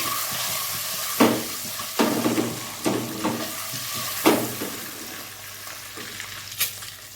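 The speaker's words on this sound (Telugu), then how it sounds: "చూడండి ఇలా ఎగ్స్ ఫ్రై అయిన తర్వాత తీసేయాలి" Eggs frying in hot oil in a pan, a steady close sizzle broken by several louder bursts and scraping stirs, with no talking.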